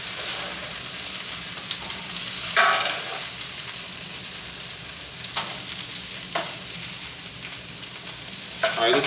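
Steak fries in a hot pan with a continuous close sizzle, broken by a few brief scraping bursts as the meat is stirred or moved, with no one talking.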